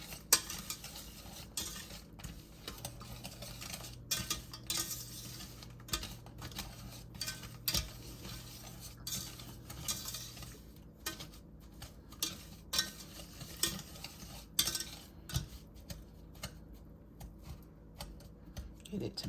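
A utensil scrapes and clinks in a pan while light and dark brown sugar is mixed on the heat, with irregular soft taps and scratches going on under a person talking.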